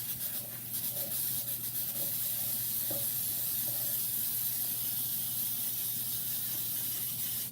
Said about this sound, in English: But I'm gonna go and spray with this Baker's Joy